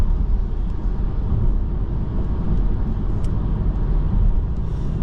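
A car cruises in sixth gear on a dual carriageway, with a loud, steady low engine drone and road rumble heard from inside the cabin and no talk.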